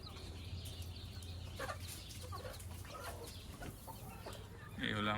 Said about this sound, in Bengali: দেশি মোরগ মুরগির অবস্থা